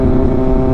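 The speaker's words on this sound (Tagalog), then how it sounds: "Yung motor dito sa likod ko" A motorcycle on an elevated skyway expressway gives a brief, loud, close engine drone while riding just behind a Kawasaki ZX-6R.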